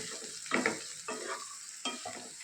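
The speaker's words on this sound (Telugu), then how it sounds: "ఈ తాలింపు అంతా కూడా బీరకాయ ముక్కలకు పట్టేటట్లు బాగా కలుపుకోవాలి" Ridge gourd pieces are stirred through a hot sizzling tempering in a pan, with three distinct scraping, tossing strokes over a constant close frying hiss.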